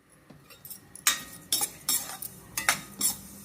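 Moong dal is dry-roasted in a pan and stirred with a metal spoon, giving a series of sharp close scrapes and clinks in quick irregular strokes over a quiet background, with no voices.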